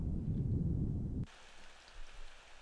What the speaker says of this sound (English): And it rains and rains and rains, pouring down cats and dogs all night long.